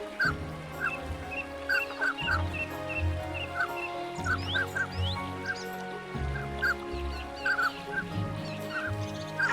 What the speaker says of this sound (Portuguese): O pato mandarim é uma espécie que representa a beleza da fauna siberiana.